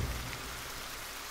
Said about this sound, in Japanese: 雨は羅生門を包んで、遠くからザーという雨を